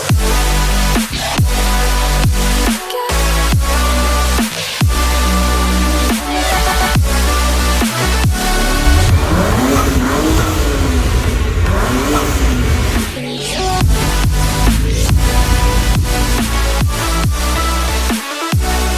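A JDM BMW 335i with the N54 turbo engine revs hard again and again, loud and close, with sharp cut-offs and crackles between long rising and falling pulls.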